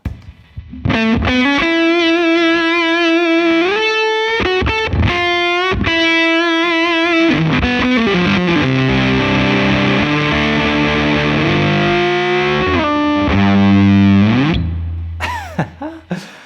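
Electric guitar through the fuzz circuit of a Chase Bliss Automatone Preamp MKII pedal, thick saturated sustained notes and sliding bends with choppy gated stops, loud and close, ending in a swelling chaotic burst; no talking.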